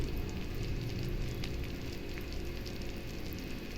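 A pot of sesame rasam begins to boil with a soft, steady sizzle and faint bubbling, close up and without talk.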